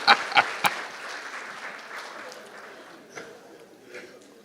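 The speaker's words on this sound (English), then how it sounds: "Clap for yourselves" Audience at a leadership talk giving a short burst of clapping: a few sharp, loud claps up front that quickly thin out into scattered faint claps and room murmur.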